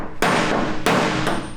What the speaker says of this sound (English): you can adapt this hammer and fix it with a wrench in any direction you would like to slap on those dents